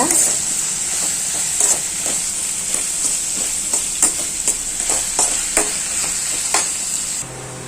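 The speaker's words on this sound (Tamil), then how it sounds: "ஒரு 2 நிமிஷம் ஒரு வாட்டி நல்லா இப்படி கிண்டி விடுங்க." Onions sautéing for a tomato curry, a loud continuous sizzle with frequent scraping stirs and clinks of a spoon against the pan, close up, no speech.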